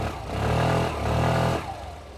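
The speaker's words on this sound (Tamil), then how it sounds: "ஒரு தடவை தான் கிராங்க் ஆச்சு, ஸ்கூட்டர் ஸ்டார்ட் ஆயிடுச்சு" A 125cc family scooter engine catches and settles into a steady, loud, close idle, its low throb holding with slight swells in pitch before easing off.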